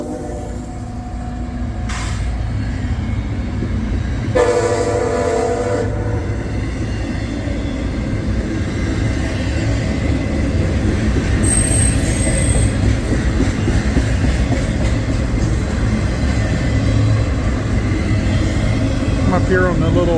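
A westbound CSX intermodal freight train at night, led by a single locomotive, rolls past as a loud continuous rumble with clattering wheels and a squealing tone, and a short horn-like blast near the start.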